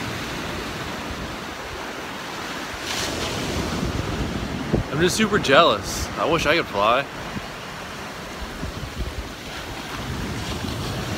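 Ocean surf washes in a steady broadband roar at a beach, continuous and fairly close, with wind buffeting the microphone and a person talking briefly over it midway.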